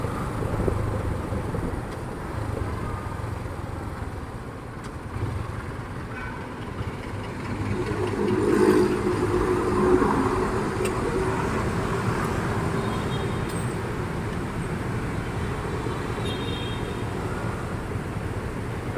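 Steady engine drone and road rumble from a motorcycle about eight years old riding on a cold day, a continuous low hum with a slight swell midway, no voices.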